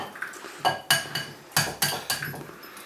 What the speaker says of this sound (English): Crack the eggs into the bowl.